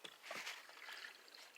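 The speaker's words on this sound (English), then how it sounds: "if I close this off, you can hear the water suck down in there" Spring water gurgles and sucks down into a French drain pipe at a spring house, giving a faint, hollow, bubbling rush with small splashes over about a second and a half, with no talking.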